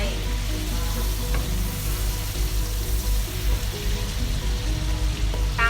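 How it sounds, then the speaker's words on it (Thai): Butter, about 100 grams, melts in a still-hot pan after chicken liver was fried in it for pâté. It makes a close, continuous crackling sizzle that holds steady throughout. "กระทะยังร้อนอยู่นะคะเนยของเราก็จะละลาย"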